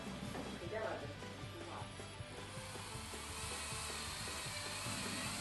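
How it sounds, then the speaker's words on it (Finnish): A power drill with a 121 mm hole saw cuts a large hole through a wall for a cabin stove's exhaust pipe, giving a steady grinding, rasping whine that stays even and fairly close throughout. "Pakoputkelle tehtävä isompi reikä porataan 121 mm kuppiterällä."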